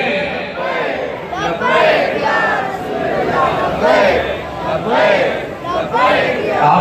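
A large rally crowd chants a religious slogan, "Labbaik Ya Rasool Allah", at an Amen ceremony, voices rising and falling in repeated waves of loud, massed chanting that fills the whole stretch.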